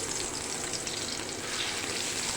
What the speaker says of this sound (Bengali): তেল গরম হলে আমি তারপর বেগুনটা দিয়ে দিব।